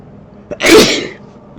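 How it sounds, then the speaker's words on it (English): A single loud sneeze bursts out close by after a short inhale, then quickly fades. "I'm gonna sneeze"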